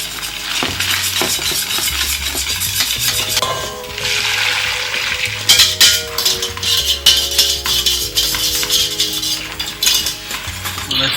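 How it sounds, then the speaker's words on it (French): A spoon scrapes steadily around a pan of thickening pastry cream made with boiling milk, eggs, sugar and cornstarch, giving close, rhythmic clinks and scraping with a soft bubbling underneath and no voices. "il faut bien remuer pour éviter justement que la crème accroche"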